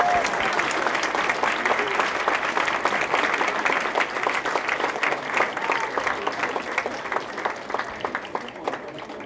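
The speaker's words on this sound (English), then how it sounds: "Give him a round of applause." Sustained audience applause fills a university hall of fame and 50th anniversary celebration, a dense, steady wash of many hands clapping at even loudness throughout, with no talk over it.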